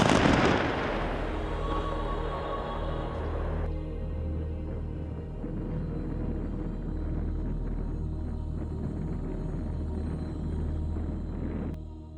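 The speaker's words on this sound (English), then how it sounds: "Warning, explosion." A loud, close explosion booms and then rumbles and echoes for several seconds in a mined village in the red zone on the Kharkiv–Donetsk border during the war in Ukraine.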